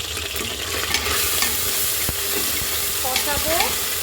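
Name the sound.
stirring beef curry with garlic paste in a pan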